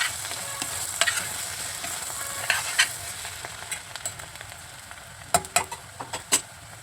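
Onions frying in a pan for Andhra-style egg curry, a steady close sizzle broken by scattered scraping clicks of a spatula stirring, with sharper taps near the end.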